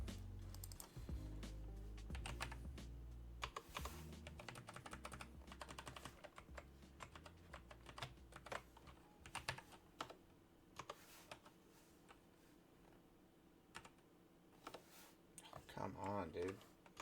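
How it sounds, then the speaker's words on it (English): Rapid keystrokes clatter on a computer keyboard during a live coding session, quiet and uneven, with short bursts and pauses and a faint voice in the background. "The typing is a problem here."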